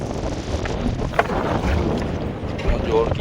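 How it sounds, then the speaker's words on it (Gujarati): On a fishing boat at sea, strong wind buffets the microphone and waves slosh and thump against the hull in a steady, close roar. "પવન ને મોજો ફૂલ છે એટલે"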